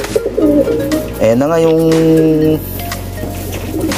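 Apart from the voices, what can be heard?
pigeons cooing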